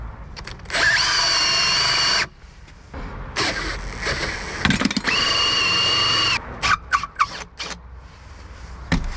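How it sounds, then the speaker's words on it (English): A power drill whines in two long bursts with a short pause between, drilling through wood, followed by scattered brief clicks and clatter. "I'll turn it over and drill from the other side now."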